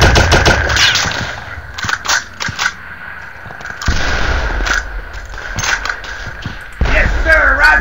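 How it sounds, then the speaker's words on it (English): Rapid bursts of machine-gun fire in a wartime strategy video game, loud and close, repeating in clusters amid other battlefield shots and impacts. "Under fire from the machine gunner."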